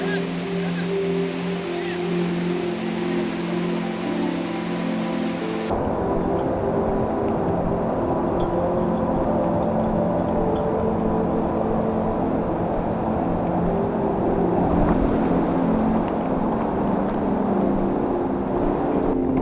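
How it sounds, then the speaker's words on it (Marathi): Heavy monsoon rain pours over the Andharban forest in Maharashtra, a dense, steady roar of falling water that fills the whole stretch, close and loud throughout. "धो पाऊस पडत आहे आज"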